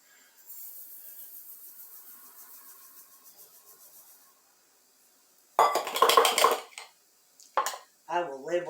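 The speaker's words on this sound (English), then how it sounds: "I'm going to put this in this jar." Homemade spice blend poured into a jar, a soft, steady granular rustle for several seconds, followed by a few louder close clinks of glass and utensils and a brief voice at the end.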